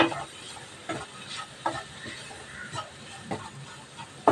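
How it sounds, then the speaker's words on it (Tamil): Tomatoes sauté with turmeric and coriander powder in a pan for a Tamil palak keerai kootu, a steady sizzle and hiss broken by scraping stirring strokes. No one speaks. "1 ஸ்பூனு மல்லித்தூள் இதையும் போட்டு நல்லா வதக்கி விட்டுடலாம்."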